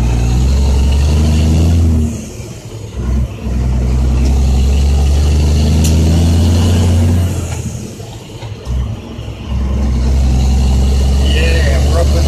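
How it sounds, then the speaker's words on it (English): A C10 Cat engine in a dump truck roars with Jake brake engine braking around a gear change to third, a loud heavy low rumble with a couple of brief dips as someone talks over it. "little Jake brake hitting 3rd gear"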